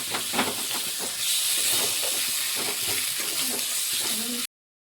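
Spice paste fries in a pan with a steady, loud hiss and sizzle that holds for about four and a half seconds and then stops abruptly.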